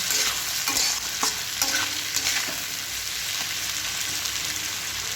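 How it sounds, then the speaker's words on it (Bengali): Chopped onion and green chilli fry in oil in a pan while being stirred, a steady broadband sizzle with scraping spoon strokes every second or so, close and fairly loud, no voices. "এবার এইগুলোকেও আমরা একটু ভাজা ভাজা করে নেব।"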